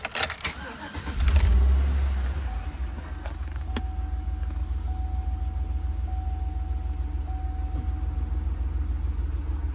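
A 2013 Chevrolet Avalanche engine catches with a brief starting burst, then settles into a steady, close, low idle rumble with a faint whine and a few small clicks.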